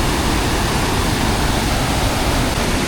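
The Tad Maleud Song Xu waterfall in Laos sends up a loud, constant roar of rushing water, close and steady throughout, with no voices over it.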